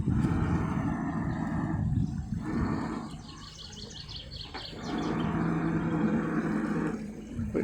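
Boat bow thruster churning in a Caledonian Canal lock at Fort Augustus, a rough low rumble in bursts with quieter gaps, heard from nearby outdoors with faint bird chirps in the background.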